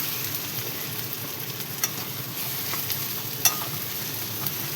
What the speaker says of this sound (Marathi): मस्त असं मिक्स करून घेऊया आपण